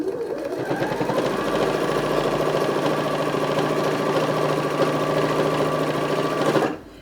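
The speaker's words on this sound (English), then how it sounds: "So we're going to just continue sewing around." A sewing machine runs steadily for nearly seven seconds, stitching around a Rebecca bag fitted with D-rings, with a close, even mechanical whir that stops abruptly at the end.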